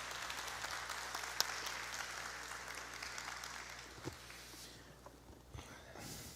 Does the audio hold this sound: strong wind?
no